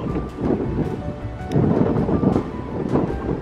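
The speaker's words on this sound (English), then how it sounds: "Really windy." Strong wind on the coast in Wales, roaring and buffeting the microphone in a loud, continuous rumble with gusts rising and falling, no voices.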